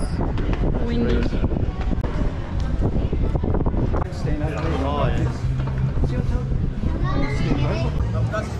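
Strong wind buffets the microphone in a constant roar while several people talk and exclaim over it, outdoors at an Australian football training day in Darwin, Northern Territory.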